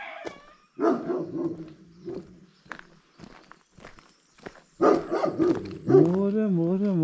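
A dog barks a few times on a village footpath along a misty Camino walking route, heard between footsteps and short bursts of people talking, with a loud harmonic voice or whine rising near the end.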